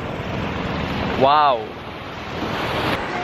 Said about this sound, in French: On a du vent aujourd'hui, donc je suis pas certaine qu'on se baigne.